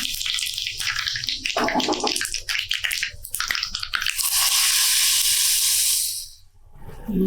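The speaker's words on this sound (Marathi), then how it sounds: "तेल तापलंय त्यामध्ये घालूया अर्धा चमचा मोहरी अर्धा चमचा जिरं" Mustard seeds and cumin dropped into hot oil for tempering, a loud close hissing crackle that surges into a sustained sputtering roar, then fades abruptly near the end.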